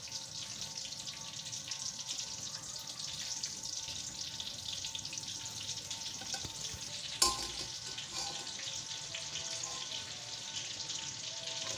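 Onions fry in two spoons of oil in a kadai, giving a soft continuous sizzle with a faint clatter partway through, no voices.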